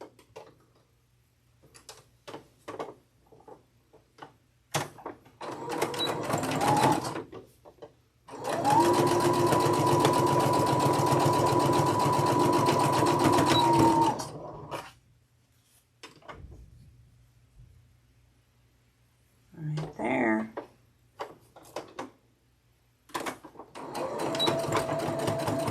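A sewing machine stitches a quilt block piece in bursts, its needle motor whirring loudly for several seconds at a time, separated by quiet gaps and small clicks and taps.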